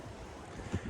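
Wind gusting outdoors around a parked Citroen Berlingo van, a steady low rumble of air buffeting the microphone that swells into stronger gusts toward the end, with no voices.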